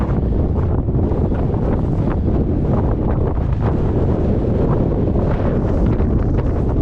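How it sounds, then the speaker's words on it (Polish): Strong, steady wind buffets the microphone on an open farm field in early March, a loud continuous rumbling roar with gusty swells and no other sounds on top. "dzisiaj dzień jest bardzo wietrzny"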